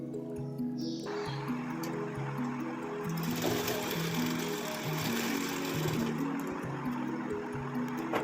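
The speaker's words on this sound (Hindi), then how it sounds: "लाइन खींचने के बाद हमें लाइन पर जो है सिलाई लगा लेनी है।" A sewing machine stitches along a marked line on a blouse, a fast steady mechanical whirring hum that starts up and runs continuously at close range, with no voices.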